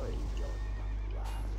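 A horse whinnies in a video game, a wavering cry rising and falling twice over a steady low hum, with speech mixed in underneath.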